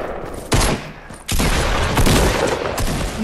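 Gunfire in the video game Fortnite, loud bursts of rapid shots and booming blasts overlapping in dense, continuous volleys at close range.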